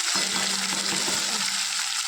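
Fish frying two at a time in hot oil in a pan, a dense continuous close sizzle with light crackle throughout, no talk.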